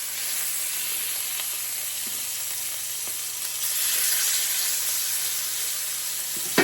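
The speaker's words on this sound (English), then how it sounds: "We're gonna add our pork chops in. You hear that sizzle?" Pork chops sizzling in olive oil in a hot pan, a steady close broadband hiss with scattered small pops and crackles, slightly louder in the second half.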